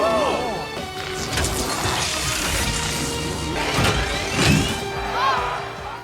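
A car is smashed by Topaz's Melt Stick in the animated What If series, with loud crashing and shattering impacts and sweeping screeches layered in a dense, continuous cinematic mix.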